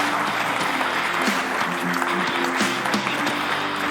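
Steady applause from an audience at an Italian sports programme celebrating sport in Santa Margherita Ligure, continuous clapping with a faint voice underneath.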